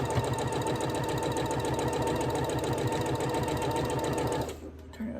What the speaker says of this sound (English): I'm gonna sit in bed, winding bobbins, y'all